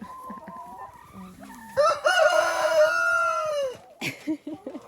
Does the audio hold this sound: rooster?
yes